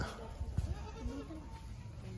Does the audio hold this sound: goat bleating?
yes